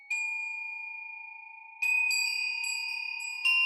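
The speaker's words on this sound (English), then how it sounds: "the rainbow chimes." Rainbow chimes ring clearly in a quiet room: one sustained bright tone, then several more struck notes layering into a shimmering, long-decaying chord, with no talking.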